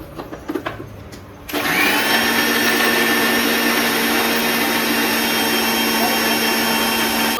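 Electric blender grinding a cornflakes coating mixture, a loud, steady high-pitched whir kicking in abruptly after a few soft handling noises and running unbroken to the end.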